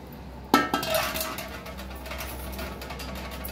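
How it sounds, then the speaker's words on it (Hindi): Washed lentils tipped into a metal pressure cooker, a sharp clattering impact followed by a brief rattling, metallic jingle that settles into quiet kitchen background noise, with no talking. "धो के उसके बाद यहाँ पे डाल रही हूँ कुकर में"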